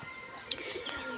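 Pigeons coo faintly inside a rooftop coop with about thirteen pairs plus young, a soft brief murmur against background noise.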